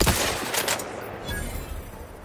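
Rapid bursts of gunfire from the video game Outer Worlds 2, with a sharp volley at the start followed by scattered shots and a sustained rattle, fairly loud with no talk over it.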